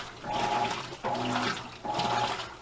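A modern Roper top-load washer agitates its load, water sloshing in three broad surges that swell and fall in a steady back-and-forth rhythm, close and fairly loud with no talk.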